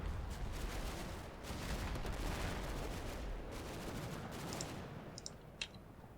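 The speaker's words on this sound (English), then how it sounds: "Oh no, it's an MG team." Machine gun team firing at a building in the Combat Mission wargame, a dense, continuous rattle of distant automatic fire blending into a rumbling roar, with a few sharper pops near the end.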